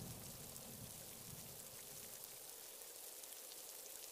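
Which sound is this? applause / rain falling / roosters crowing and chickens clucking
rain falling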